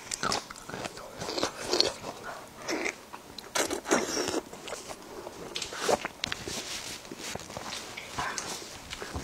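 Someone bites into and chews raw garlic cloves during a meal of salty pork belly, kimchi and white rice, giving repeated close crunches and wet chewing in an irregular rhythm, no speech over it.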